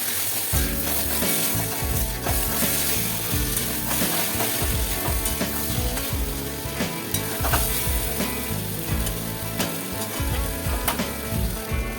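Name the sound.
spices with turmeric stir-fried in pan for chili curry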